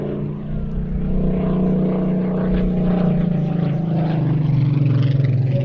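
A PR-19 aircraft from 1944 with a Rolls-Royce Griffin 65 engine of over 2,000 horsepower drones steadily overhead at an airshow, a loud, continuous low engine roar that swells slightly as it passes.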